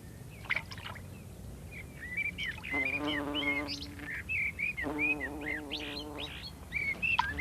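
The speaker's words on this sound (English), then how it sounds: "Insects also come from far and wide to drink at the garden watering hole." Honeybees buzz at a garden watering hole in a nature setting on a hot noon, giving two drawn-out, faint buzzes amid scattered bird chirps and tweets.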